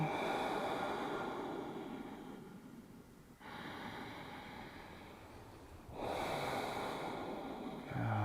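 Slow, steady breaths during a yoga practice, long broad airy exhales separated by brief pauses, close and fairly loud with no talking.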